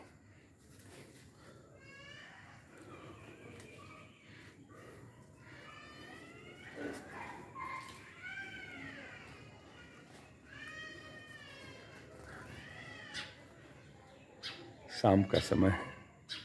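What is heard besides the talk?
birds singing in fruit-laden trees in the evening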